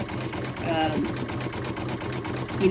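An embroidery machine stitches on cork with a fast, even mechanical hum and rhythmic needle thumping that runs steadily throughout, while a person talks over it.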